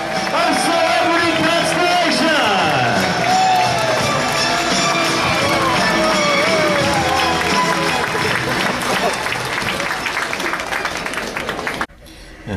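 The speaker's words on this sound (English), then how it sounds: "please join me in one final thunderous round of applause for the entire culinary and restaurant team of Celebrity" Applause and cheering from a large crowd honouring the culinary and restaurant team aboard the cruise ship Celebrity Constellation, sustained and loud with whoops and a voice over it, cutting off abruptly near the end.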